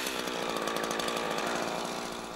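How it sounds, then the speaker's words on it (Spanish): A Husqvarna chainsaw making a felling cut in a tree runs at high revs with a loud, steady, buzzing roar throughout, close and without pauses. "Puede cortar con la cadena empujando o tirando."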